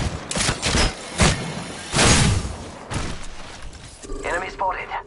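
Rapid gunfire bursts from the video game Apex Legends, several loud broadband volleys spread across a few seconds, with thuds and small mechanical clicks in between and voices talking over the action.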